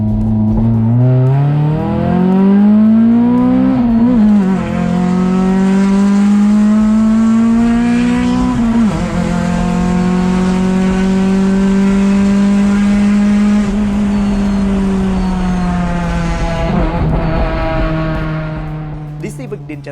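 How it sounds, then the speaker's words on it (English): A Honda Civic's VTEC engine revving hard and loud, pitch climbing and dropping through sustained high-rpm pulls, with a brief dip midway and a fade at the end. "And the sound? Pure, soul-ripping VTEC fury."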